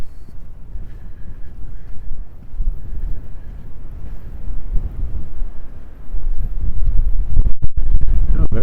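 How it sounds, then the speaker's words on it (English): Strong wind buffeting outdoors during a snowy April walk in Regina, a loud low roaring rush that gusts unevenly and grows heavier near the end. "There's the wind, now that I took my hood down"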